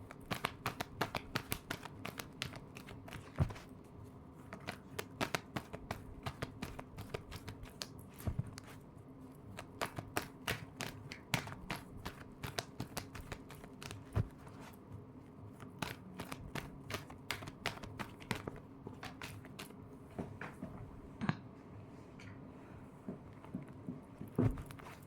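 Tarot cards shuffled by hand in a steady, close run of soft riffling and patting that carries on throughout without talk, quiet overall with brief crisp snaps.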